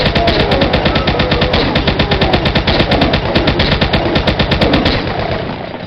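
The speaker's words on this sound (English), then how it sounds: "I don't know if you hear that little impact sound after I'm shooting enemies. That's the hit marker." Rapid, continuous gunfire from a chaingun in Doom played with the Toby Accessibility Mod, dozens of evenly spaced shots in a steady stream with faint impact ticks mixed in, loud and up front with no talking.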